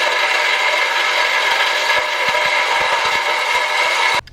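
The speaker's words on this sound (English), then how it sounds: "The Sawzall is jumping around a lot." A Sawzall reciprocating saw cuts through a Camaro SS exhaust pipe, a loud, continuous buzzing rasp with rapid rattling chatter, stopping abruptly near the end.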